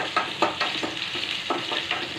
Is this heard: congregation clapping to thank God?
no